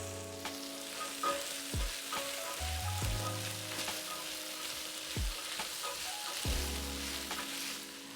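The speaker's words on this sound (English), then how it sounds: "Now you can stir in your beans." Mixed beans are stirred into a simmering curry masala in a pan, soft sizzling under occasional spoon scrapes and knocks, quiet and close with no talking.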